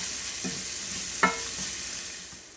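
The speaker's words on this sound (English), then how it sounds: "I'm going to saute these veggies for about 5 minutes" Onion and celery saute in ghee in a pan, a soft steady sizzle with a couple of brief clinks of a utensil against the pan, fairly quiet.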